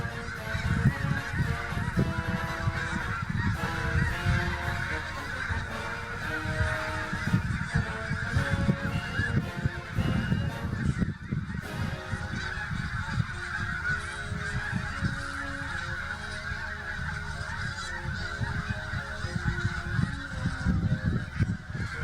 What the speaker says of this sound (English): Just look at how many snow geese there are.